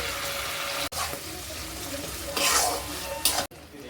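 Spices sizzling and frying in oil for a Bengali katla fish kalia curry, a steady loud hiss with brief stirring scrapes and a couple of sharp clatters.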